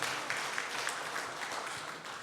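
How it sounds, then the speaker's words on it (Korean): A church congregation claps together during a Sunday worship service, a brief wash of applause at moderate volume with a few sharper claps standing out. "하나님께 영광의 박수"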